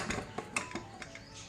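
A pressure cooker lid is opened after cooking amla (Indian gooseberry) dal, giving several light metallic clinks and clatters close by, quiet and spaced across a short moment with no talking.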